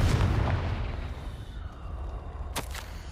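A Confringo fire spell explodes in the Hogwarts Legacy video game: a loud, rumbling blast at the start fades under ambient game sound, followed by a couple of sharp bursts near the end.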